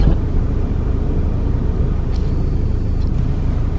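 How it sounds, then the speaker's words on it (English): Car stuck in traffic, a steady, loud low rumble of engines and road noise heard from inside the vehicle with no break, nobody talking. "we are still stuck on traffic"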